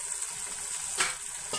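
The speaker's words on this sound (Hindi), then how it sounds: "इसी मसाले के साथ टमाटरों को भी भून लेंगे।" Tomatoes frying with masala in a pan give a steady, moderate sizzle, with a couple of short scraping stirs of a spoon breaking through near the end.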